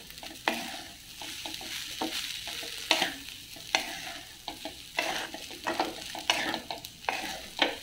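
Masala rice made from leftover cooked rice being stirred and tossed in a pan, with repeated scraping strokes of a spoon against the metal and a soft sizzle underneath, close and steady with no talking.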